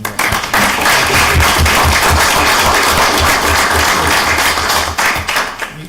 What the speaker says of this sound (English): I ask for a little round of applause for David